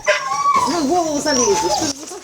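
Dogs on a rural village homestead near a border area whimper, yip and bark up close and loudly through most of the stretch, with a short pause midway.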